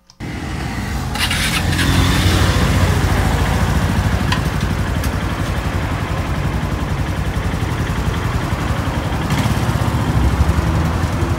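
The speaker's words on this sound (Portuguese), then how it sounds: "E fiquem agora com o som do motor." A combustion Piaggio Vespa tuk-tuk engine starts abruptly and runs loud and close, a steady rough rattling drone with small shifts in intensity throughout and no talk.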